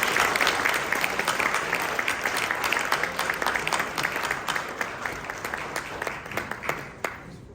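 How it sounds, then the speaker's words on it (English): An audience at a medical foundation gala applauds steadily and loudly for several seconds, a dense crowd of claps that thins and tapers off toward the end. "So let us applaud Dr. Legato."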